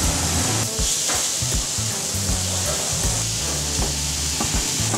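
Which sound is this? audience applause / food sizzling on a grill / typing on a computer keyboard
food sizzling on a grill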